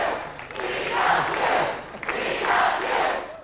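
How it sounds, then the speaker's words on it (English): An enthusiastic crowd greeting an emerging president, rising in two swelling waves of loud cheering and shouting voices, mid-distance and continuous. "president then emerged to be mobbed by an enthusiastic crowd"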